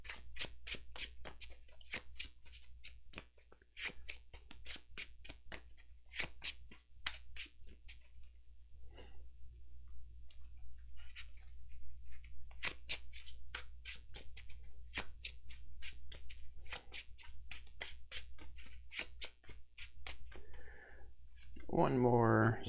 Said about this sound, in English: Just get this shuffling out of the way.